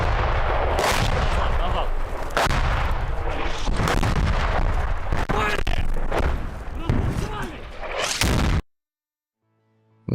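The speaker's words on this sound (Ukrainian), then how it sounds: "Це приходи градів, ніби схоже." Repeated heavy blasts and booming impacts of Grad rocket strikes crash close by in rapid succession, with voices under them, ending abruptly in silence.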